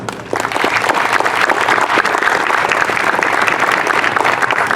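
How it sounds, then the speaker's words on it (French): Sustained, loud applause from a crowd at a vocational school graduation ceremony honoring a teacher, steady dense clapping filling the whole stretch with no pause. "on l'applaudit s'il vous plaît."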